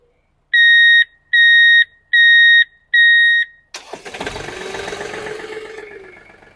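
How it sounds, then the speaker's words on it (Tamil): Four evenly spaced electronic beeps sound loud and clear, followed by a Mahindra Oja 2127 tractor engine cranking and rumbling to life. "5 செகண்ட்ஸ் ஹோல்ட் பண்ணி பிடிச்சிங்கன்னா ஒரு பீப் சவுண்டு வரும்."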